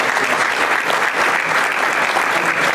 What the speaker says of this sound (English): Can we have some applause for our panelists here taking the time?